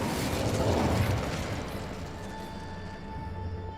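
Incendio fire spell cast in Hogwarts Legacy, a loud burst of whooshing flame that flares for about a second and then fades into a lingering crackling hum.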